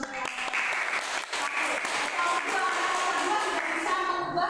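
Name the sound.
class applause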